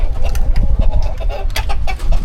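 Brahma chickens and flogging roosters cluck loudly and close by in a farmyard, with a busy overlapping stream of short clucks and squawks.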